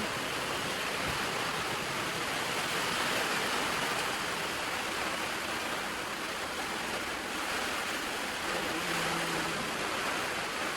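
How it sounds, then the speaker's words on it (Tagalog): Heavy rain pours down steadily during a typhoon before dawn, a dense, unbroken loud roar of water throughout with no talking. "Ulan ko ito."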